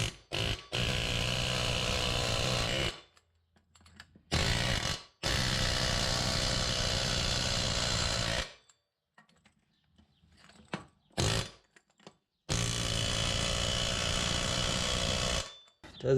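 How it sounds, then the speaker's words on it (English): Loud bursts of a pneumatic air hammer working on a Jeep Liberty wheel bearing, in three long stretches, each several seconds, separated by quiet gaps with faint clanks and shuffling. "Let's try the air hammer."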